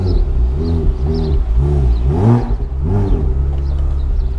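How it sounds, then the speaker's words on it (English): A 400 hp Porsche Boxster weighing 2,800 pounds accelerates hard at full throttle on a rainy road, heard from inside the cabin: loud engine revs climb in repeated rising sweeps through the gears, with a brief lift between shifts. "I've never floored this car yet, so we're gonna do it all together."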